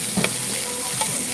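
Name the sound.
pork belly sizzling on a grill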